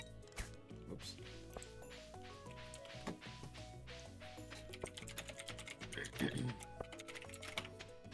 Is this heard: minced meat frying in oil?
no